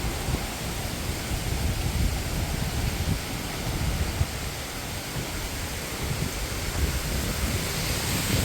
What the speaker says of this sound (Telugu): చాలా గాలి వచ్చింది ఇప్పటి వరకు